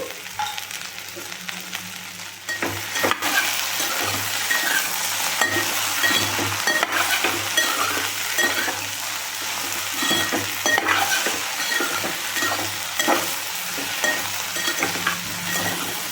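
Okra fries village-style in a pan with turmeric and salt, giving a loud, continuous close-up sizzle, joined by scraping stirs and clinks after the first couple of seconds, with a low steady hum underneath.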